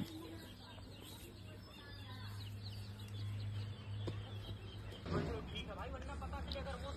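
Chickens cluck softly in the distance while people talk close by.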